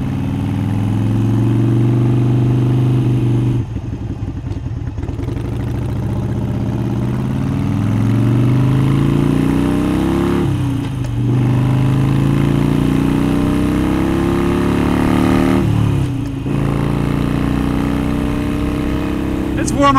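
Harley-Davidson Iron 883 motorcycle engine under way, a continuous mid-pitched rumble with rising throttle pulls broken by a few short gaps, likely wind or gear changes.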